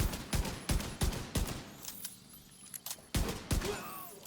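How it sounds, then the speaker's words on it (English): Rapid pistol gunfire in a modded Skyrim (Nolvus modlist) game, a series of sharp close shots in irregular bursts of three or four, with a short quieter gap in the middle before two more shots. "Headshotting from 50 yards away with the pistol"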